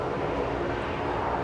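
Fokker 70 airliner just arrived at Brisbane airport, a steady broadband jet engine roar at moderate distance, continuous and unchanging over the short stretch.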